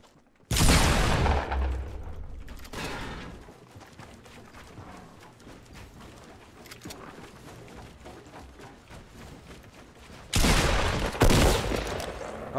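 Gunfire aimed at the player in a shooter video game: a loud burst of rapid shots at the start, a quieter stretch of scattered pops, then another heavy volley near the end.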